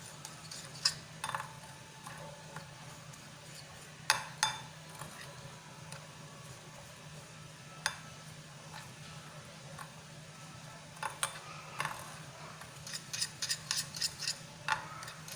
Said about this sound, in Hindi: चम्मच थोड़ा सही चलाना है इसके अंदर।